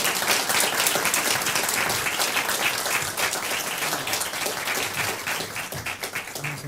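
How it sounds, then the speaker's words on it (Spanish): Applause from an audience bidding farewell to speakers at a food-safety standards event, steady dense clapping throughout, fading slightly toward the end. "las despedimos con un aplauso"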